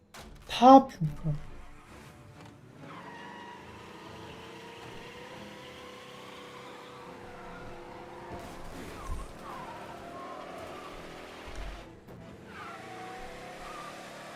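A car drives off in the video game Mafia: a short burst of sound, then a steady engine drone that shifts pitch as it accelerates, with voices speaking over it.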